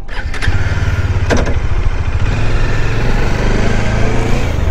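A motorcycle engine catches and settles into a loud, steady running rumble, close by, with no talking, at the Navotas reclamation site.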